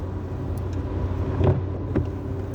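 Truck rolling along a snowy road, a steady low engine rumble and tyre drone heard from inside the cab, with a couple of brief louder bumps.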